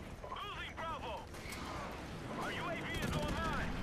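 Airstrike explosions rumble through a Modern Warfare Remastered match, heavy booming blasts and gunfire rolling steadily across several seconds, with a voice talking over the battle.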